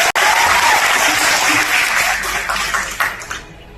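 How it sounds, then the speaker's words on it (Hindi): Hearty audience applause at a live music tribute event, a full crowd clapping loudly and evenly before gradually thinning out and fading. "इसके लिए तालियां चाहिए।"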